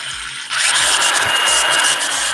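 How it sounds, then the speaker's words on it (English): An angle grinder starts up and bites into metal on a bike, a loud high-pitched whine and grinding hiss that holds steady after a quieter opening moment. "Oh, nice angle grinder."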